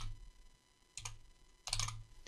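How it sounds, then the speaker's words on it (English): A few keystrokes on a computer keyboard click close and quiet in separate short bursts, with pauses between them, as text is typed into Blender 2.8. "we'll just type in origin"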